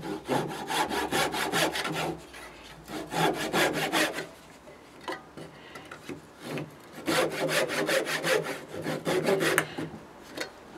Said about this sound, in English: Okay, this is just a small tenon saw. I'll take this piece off first.